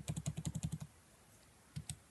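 Keys on a computer keyboard are pressed over and over to repeat a Shift+R shortcut in Blender. A quick run of about eight evenly spaced, soft clicks is followed by a pause and then two more taps, with no talk.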